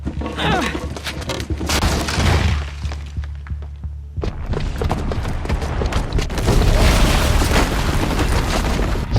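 A booby-trapped bomb detonating in Horizon Zero Dawn: a loud, heavy explosion with rumbling debris and crashing, a short lull, then a second sustained roaring blast that carries to the end.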